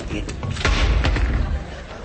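A radio comedy sound effect of an old wardrobe door breaking off: a cluster of heavy thuds and a wooden slam, close and fairly loud over a couple of seconds.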